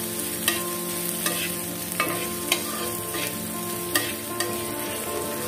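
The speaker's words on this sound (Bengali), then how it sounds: "আমি এটা সরষের তেলে দিচ্ছি তো এবার আমরা এটাকে একটু ভাজা ভাজা করে নেব" Onion and chili frying in mustard oil for mashed potatoes, a steady close sizzle with a few sharp stirring clinks spaced through it, no voices.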